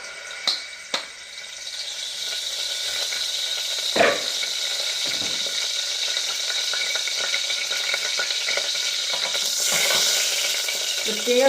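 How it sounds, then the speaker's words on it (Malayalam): Coconut oil heating in a hot pan sizzles in a steady, close hiss through the whole stretch, with a few sharp clinks and stirring scrapes early on and a brief louder burst near the end. "നമുക്ക് കുറച്ച് എണ്ണ ഒഴിച്ചു കൊടുക്കാം ഇപ്പോൾ പാത്രമെല്ലാം ചൂടായിട്ടുണ്ട് നന്നായി വെളിച്ചെണ്ണയാണ് ഞാൻ ഇട്ടുകൊടുക്കുന്നത്"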